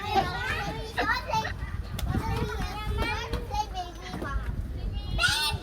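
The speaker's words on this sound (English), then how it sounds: "There are kids playing in the playground." Children play in a neighbourhood playground in Bukit Gombak, Singapore, with lively shouts, squeals and chatter close by, their voices overlapping continuously against a soft outdoor background.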